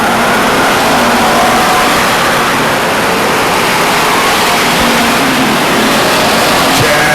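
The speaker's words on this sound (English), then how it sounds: "There's a genuine old-fashioned hot rod race going on right now as we speak between the number 6 car and the number 75 car of Chad Holman." Hot rod race cars roar around the Stockton 99 Speedway oval in a continuous, blended engine drone heard from a distance, loud and unbroken with no clear individual pass.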